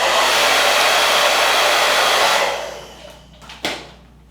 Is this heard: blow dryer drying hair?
yes